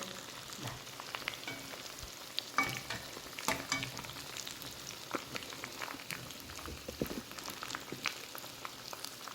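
Chicken frying until crispy, a steady close crackling sizzle with scattered sharp pops and spatters running throughout, no voices.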